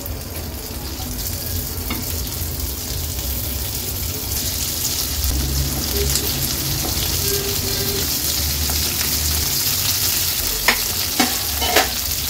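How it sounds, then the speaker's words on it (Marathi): Stuffed okra frying in about two tablespoons of oil in a pan, a loud, continuous close sizzle with a few light clicks toward the end and no talk. "आता ही भरलेली भेंडी आहेत ना आपण पॅन मध्ये सोडणार आहोत"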